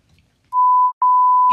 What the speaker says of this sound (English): Look, cuss, I'm gonna put a beep.